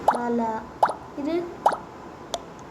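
Slime squishes in a Roblox slime keyboard game: four wet, plopping squelches spaced about a second apart, fairly close and clear, with voices sounding between them.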